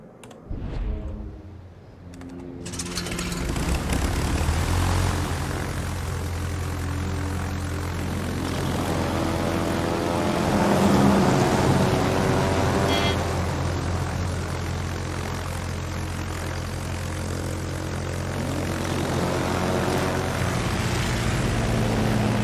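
Propeller planes drone steadily in a naval combat video game, a continuous engine hum that swells slightly in the middle and holds loud throughout, with no talk over it.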